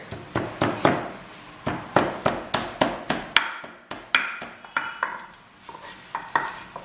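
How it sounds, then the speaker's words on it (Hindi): Garam masala spices are ground in a mortar and pestle for Bihari mutton curry, making a quick series of sharp, close pounding knocks in a steady rhythm that turns into slower, grinding strikes. "बिहारी मटन करी के लिए हम ये जो हमारे गरम मसाले हैं इनको इस खलबत्ते के ऊपर बढ़िया पीस लेंगे।"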